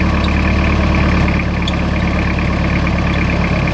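A truck's engine runs steadily at a low, even rumble throughout a road test, loud and close with no talking.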